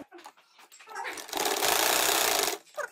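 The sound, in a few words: sewing machine stitching a back neck design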